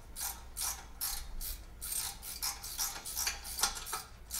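Bolts are ratcheted tight while a press is assembled, giving a steady run of close, quiet clicking pawl strokes in rhythmic bursts, with no voices.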